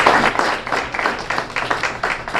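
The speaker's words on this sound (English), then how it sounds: "So round of applause to Paloma Valley High" A room of people applauds at a Paloma Valley High School student-of-the-month event, loud scattered claps in a quick uneven rhythm that gradually thin out.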